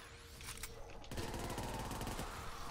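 Rapid gunfire from an M1941 rifle in a World War II-era video game gun-game match on a winter map, dense overlapping shots from about the one-second mark onward, loud and close, over steady game noise.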